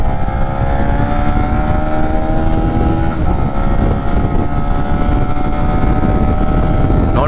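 A Honda RS-X motorcycle engine roars steadily and loudly while accelerating, its pitch climbing slightly as it revs, with constant rumbling noise throughout.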